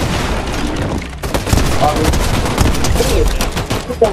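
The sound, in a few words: gunfire blasting enemies in a video game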